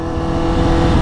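A 2003 Kawasaki ZX-6R sport motorcycle engine revs hard and steadily, a loud, close, continuous throaty drone lasting about a second with no voices.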